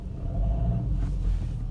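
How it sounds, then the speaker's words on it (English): A 2019 Kia Ceed hatchback engine while the car is driven slowly, giving a steady low rumble with a faint tonal hum, even in level and close by, with no talking. "I'm just gonna drive easily front so you can hear the engine."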